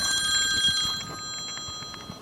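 A telephone bell rings with a bright, sustained metallic tone that fades after about a second, followed by faint softer chimes in a quiet room.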